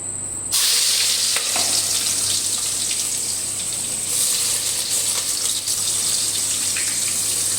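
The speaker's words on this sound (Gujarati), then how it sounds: "આદુ ડુંગળી મરચા અને ટમેટા અને રાઈ અને વઘાઈ એને આપણે વઘારીએ છીએ" Oil sizzles loudly and continuously as ginger, onion, chili, tomato and mustard seeds are tempered in a pan, starting abruptly with a burst of hiss and holding a steady frying crackle, with a low steady hum underneath.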